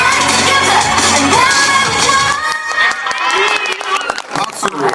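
A street crowd at a random play dance event on Gwangbok-ro in Busan bursts into cheering, whoops and applause as music ends, followed by a quieter stretch with a voice speaking over the crowd.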